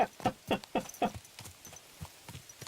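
Horse hooves clip-clop at a brisk, even walk in Kingdom Come: Deliverance 2, a close series of distinct knocking steps that grow softer toward the end, with no talking over them.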